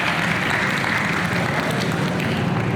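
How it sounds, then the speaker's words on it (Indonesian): Dense, even crowd applause at a community cinema event in Tangerang fills the moment as a steady wash of many hands clapping, with no voices on top. "Tepuk tangan dulu buat yang nanya"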